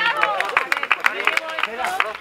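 Audience at a trophy ceremony for a Zaragoza footrace claps in applause, scattered sharp claps mixed with crowd chatter and a speaking voice over the top.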